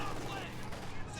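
Machine gun fire in a World War II shooter game, a dense continuous rattle of rapid shots, loud and close and running without a break.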